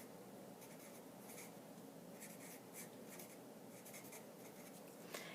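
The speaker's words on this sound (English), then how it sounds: "So I'm going to write that down." Pen scratching numbers onto paper during a density calculation, faint, close and steady, with short stroke pulses and no talk.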